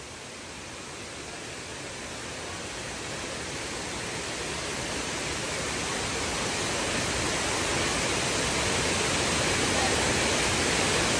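A steady, dense roar of Tirathgarh waterfall in Kanger National Park, Chhattisgarh, fills the scene without break, loud and close, slowly growing a little louder.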